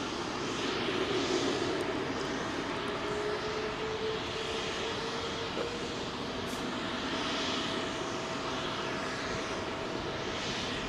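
A freighter jet powered by Rolls-Royce Trent 700 engines roars at Heathrow, a steady broad engine rumble that stays fairly loud and unbroken for the whole stretch.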